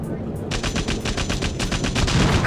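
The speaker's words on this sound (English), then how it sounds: "And this is the cannon." Rapid repeated cannon blasts from a tank in the PS1 game Euro Demo 8, firing in a fast steady rhythm of sharp loud bursts over a constant rumbling low engine drone, close and continuous.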